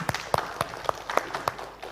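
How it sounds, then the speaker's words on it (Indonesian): An audience at a political talk show in Central Java gives light applause: sparse, distinct claps in a fairly regular pulse, moderately loud in a quiet room. "Kita beri tepuk tangan dulu untuk semua narasumber."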